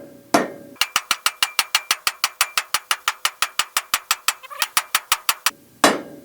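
A rapid, steady run of sharp metallic hammer strikes rings out close by, about two dozen blows in quick rhythm, with a louder clank at start and end, while working on a shaft of a CUCV M1008 military truck.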